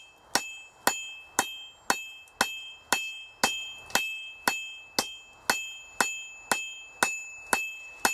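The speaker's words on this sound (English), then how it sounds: "All we're going to do is just take this, elongate it, and well, by beating the piss out of it." Hot metal struck with the peen of a hammer during forging of a candlestick: about fifteen loud, close, ringing metallic blows in a steady, even rhythm, each with a short decay.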